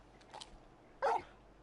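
Large dog companion Torgal in Final Fantasy XVI giving a single short bark after a faint yip, close over quiet game ambience.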